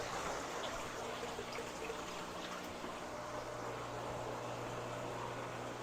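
Aquarium water drains through a PVC line into a sink, a steady close trickling and running-water sound that continues unbroken, with no talking.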